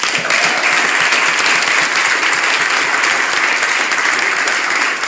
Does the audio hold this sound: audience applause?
yes